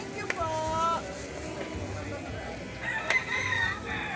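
Roosters crow in drawn-out calls at chicken coops along a path, one early and another near the end, over a background of clucking hens and outdoor noise, with a person speaking nearby.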